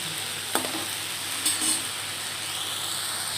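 Leafy greens sizzle steadily in a hot pan, with a couple of sharp stirring scrapes standing out against the continuous frying hiss. No one speaks.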